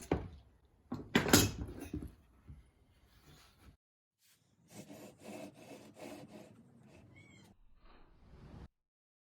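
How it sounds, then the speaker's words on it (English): A handle is screwed onto a wooden tapering jig along its outer fence, driven from the underside, with bursts of rasping, rubbing wood-and-screw sounds, loud at first and then a quieter run of rhythmic turning strokes, close up and without talk. "I'll now attach the handle along the outer fence, screwing into position from the underside."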